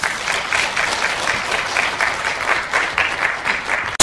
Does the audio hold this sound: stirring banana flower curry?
no